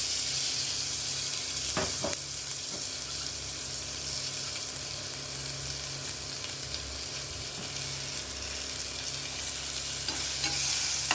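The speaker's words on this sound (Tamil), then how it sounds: "இப்போ வெங்காயமும் தக்காளி ஒட்டுக்கா போட்டுடலாம்." Onions and tomatoes frying together in a pan while being stirred: a steady sizzle runs throughout, broken by a few sharp scrapes and clicks of the utensil against the pan, with no talking.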